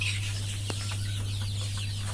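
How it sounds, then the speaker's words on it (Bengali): Chickens cluck on a poultry farm where 14-day-old chicks are kept, a busy chorus of soft clucks and chirps over a constant loud low electrical hum, with no talking. "আর দেখেন এইগুলো বড় মুরগি।"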